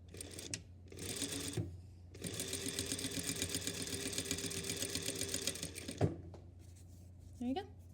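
A sewing machine back stitches a bound, Hong Kong style seam in short close bursts, a brief run then a longer one, with faint handling noises and a voice in the pauses.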